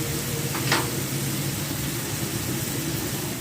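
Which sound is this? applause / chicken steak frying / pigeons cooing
chicken steak frying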